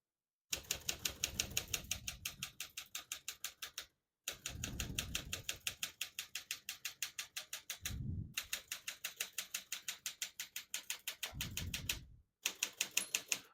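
A 1951 Smith-Corona Silent portable typewriter is typed on in quick runs of crisp keystrokes, grouped into several bursts separated by short pauses, with deeper thumps at times and no voices.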